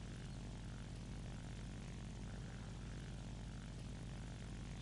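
A G.50 Freccia fighter's propeller engine drones in the War Thunder combat flight game, a steady, dense, low roar that holds constant throughout with no voices.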